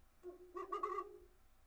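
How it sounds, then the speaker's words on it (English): A single short owl call played as an online sound effect, one soft hooting phrase under a second long, with nothing else around it. "Let's see if we can look up an owl sound for Vince while we have a second before game time."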